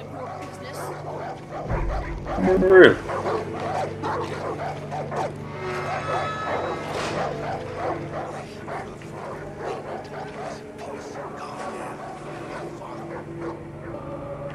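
Several dogs bark, yip and whimper in Far Cry 5, loud and close in overlapping bursts, while characters talk over them throughout.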